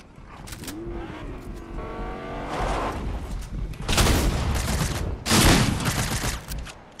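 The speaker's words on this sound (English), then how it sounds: "There's a car. There's a car. Here. Coming." A car in the video game Fortnite approaches with a rising, revving engine tone, mixed with loud bursts of rapid gunfire that swell toward the end.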